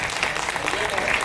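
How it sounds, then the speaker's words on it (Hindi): An audience at a live Hindi comedy stage show claps steadily and loudly, a dense wash of applause running throughout, with voices mixed in. "आप जरा तालियां बजा के बता दीजिए"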